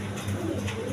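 Pigeons coo softly in a loft kept for sale, a low steady murmur of calls close by with no talk over it.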